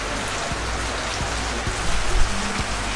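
Steady rain falls on a surface in Thailand, a dense, even hiss of drops with a few heavier patters, close and continuous with no talking.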